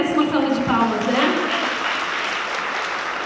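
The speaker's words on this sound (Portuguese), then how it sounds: "Acho que ele merece uma salva de palmas, né?" Audience applause at an education seminar in Salto de Pirapora, a dense burst of clapping that fades steadily, with a voice speaking over its opening moments.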